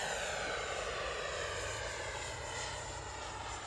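Xfly T-7A Red Hawk 80mm electric ducted-fan RC jet taking off from a short runway, a loud continuous high-pitched whoosh and whine heard close and alone.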